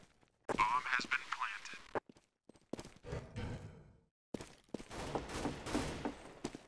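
Gunfire in Counter-Strike on the de_apex community map comes in loud, sharp bursts and rapid volleys separated by short pauses, with voices talking during the shooting.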